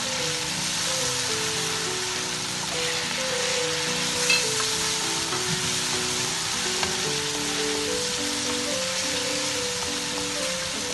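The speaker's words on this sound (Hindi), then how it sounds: "इसको मैं अब अच्छे से भूनूंगी ताकि ये इसका कच्चापन गोश्त का ख़त्म हो जाए" Meat sizzling steadily in a pan of oil while being stirred for chana dal gosht, a dense continuous frying hiss with soft scraping of the spoon, close and alone.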